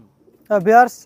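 A white golden pigeon gives a short, close cooing call, a single throaty two-part coo after near silence.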